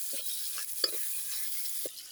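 Onion, garlic and green chili stirred in a hot pan for ginisang upo, with a steady background sizzle broken by a few short scraping stir strokes, close and moderately loud.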